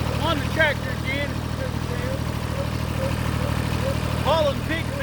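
A little farm tractor hauling pig feed idles with a steady, low engine hum while a person talks over it.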